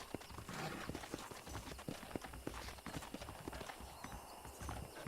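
Horse hooves clip-clop in the video game Red Dead Redemption, a steady, fairly quick rhythm of hoofbeats on the ground, moderately close and faint overall.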